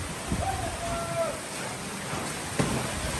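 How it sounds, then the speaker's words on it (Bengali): Evening rain falls steadily over Dhaka amid wind, a continuous even hiss of drops throughout, with a brief sharper patter near the end. "ঢাকার মধ্যে বৃষ্টি শুরু হয়ে গেছে"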